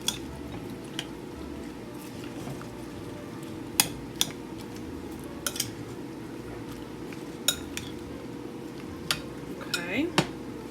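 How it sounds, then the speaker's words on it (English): A marinade of oil and vinegar is stirred in a bowl, giving quiet swishing and squelching with sharp clinks and taps of a utensil against the bowl, over a low room hum. "I'm gonna stir all this up."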